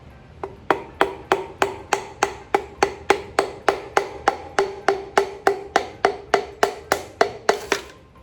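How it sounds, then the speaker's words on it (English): Piston being tapped into an engine block during shortblock assembly, heard as about twenty-five sharp, evenly spaced taps in a steady rhythm, close and clear with nothing else over them. "And then you just tap."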